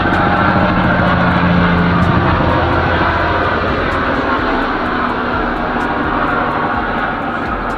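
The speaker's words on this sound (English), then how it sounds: "Try to let this airplane go by." An airplane passes overhead above a garage where a Cutlass is being worked on, a loud continuous engine roar filling the whole stretch and easing slightly toward the end.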